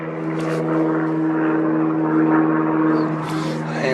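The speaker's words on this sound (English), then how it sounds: "A plane overhead?" Propeller airplane passing overhead in a wet, rainy forest, a steady droning hum lasting throughout at moderate distance, with a few faint background noises and no clear speech.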